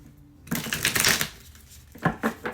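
A deck of tarot cards is shuffled close by, a dense riffling flutter in two bursts separated by a short pause, with no talking.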